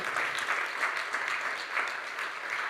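A church congregation at a Sunday service claps steadily in a warm, fairly soft round of applause, even and sustained without talk.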